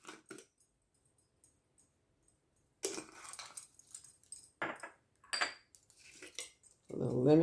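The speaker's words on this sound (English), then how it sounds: "mix them up and try to get the seasoning on all the shrimp." A utensil scrapes and clinks against a bowl while mixing seasoning into shrimp, a string of close, irregular metallic taps and rattles with brief pauses and a louder burst of scraping at the end.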